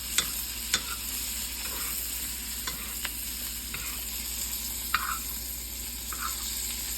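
Deer steaks fry with garlic in a pan, giving a steady low sizzle with a few sharp clicks and pops spread through the clip, no voices present.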